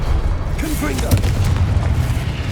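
A Confringo spell blast in Hogwarts Legacy lands as a loud, deep boom with a rumbling tail, close and forceful, with a voice calling out spells over the combat.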